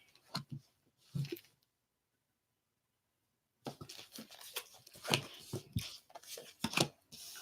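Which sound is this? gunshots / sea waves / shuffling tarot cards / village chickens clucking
shuffling tarot cards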